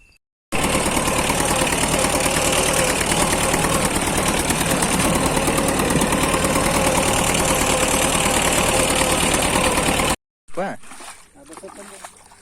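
A VST diesel vehicle engine running steadily, a loud, close, even rumble lasting about ten seconds before cutting out abruptly, followed by quieter mixed noise.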